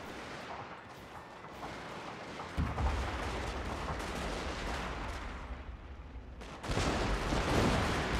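Gunfire from a Total War: Shogun 2: Fall of the Samurai battle against carbine cavalry: dense, continuous volleys of rifle fire, rising louder partway through and again toward the end, with no talking.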